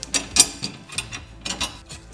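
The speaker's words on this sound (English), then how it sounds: "I'm just getting these hand threaded, and I'm going to tighten them up a little bit." Hex bolts and lock nuts being hand threaded onto a steel step bracket for a Legend UpStep RS3 on a Ford Transit van, giving small, close metallic clicks and scrapes in irregular short bursts, with no talking.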